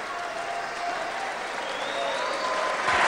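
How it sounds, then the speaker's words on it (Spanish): Crowd at a boxing event in Concordia, Argentina gives an ovation for a champion boxer, sustained loud applause and cheering with whistles rising above the din. "La ovación exime de mayores comentarios"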